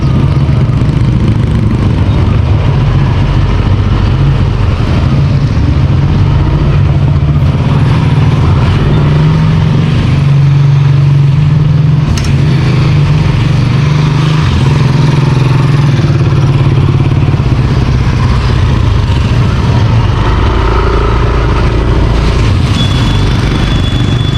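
A motorcycle engine runs steadily and loudly throughout, a low continuous rumbling hum with no talking.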